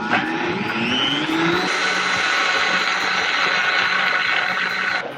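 A blender whips cream in its jar with the lid held down, a loud steady motor whine that shifts up in pitch after a second or two, then runs evenly until it cuts off near the end.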